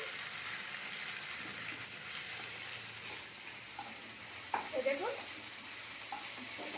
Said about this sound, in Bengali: তিনটে কাঁচা লঙ্কাকে দিয়ে দিলাম এটাকে আমি ভালো করে নেড়ে নেবো